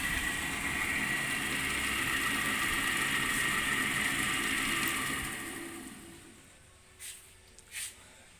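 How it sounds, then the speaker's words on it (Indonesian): Fokka dynamo motor powered from a car battery, running with a steady mechanical hum and whir that winds down after several seconds, followed by a couple of brief knocks. "Kita hidupkan on off-nya tuh. Jadi dinamonya jalan,"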